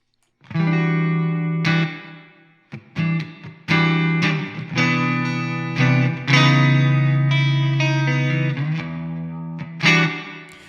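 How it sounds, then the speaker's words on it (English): An electric guitar plays chords and single notes through a Strymon reverb pedal on its normal reverb setting, knob at default. Each strum is bright and sustained, with a smooth tail ringing after it across a loose rhythm. "let's say that you just want to have a normal kind of reverb like this, by default with the knob set up like this."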